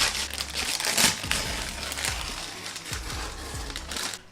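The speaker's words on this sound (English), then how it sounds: "I'm just gonna remove the paper from here" Baking paper peeled off a slab of baked brownies, close crinkling and crackling with soft tearing rustles in irregular bursts, no talking.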